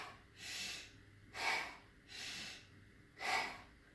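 Heavy deliberate breathing, in through the nose and out through the mouth, in four rhythmic breaths of alternating softer inhales and louder, sharper exhales, close and alone.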